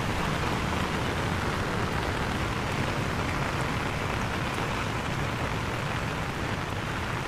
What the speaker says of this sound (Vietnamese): trời mưa quá, đi vào thôi.